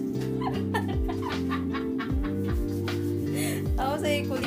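Chicken clucking in short repeated bursts over a steady low hum, with people talking and laughing nearby throughout.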